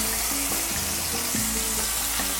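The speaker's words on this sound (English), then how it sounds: "We're going to sear it." Meat searing in a little olive oil in an electric skillet, a loud, steady close sizzle with occasional crackles and pops, no talking.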